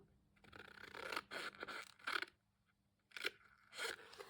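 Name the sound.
scissors cutting paper up to the score line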